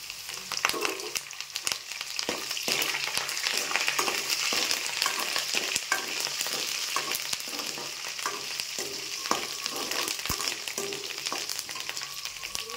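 Curry leaves frying in hot oil for upma, a steady dense sizzle with crackling pops and occasional stirring clicks throughout, close and fairly loud with no talking.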